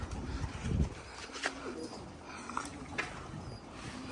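Zubayri pigeons coo softly at a rooftop loft in low, repeated, fairly distant calls under a steady outdoor hum.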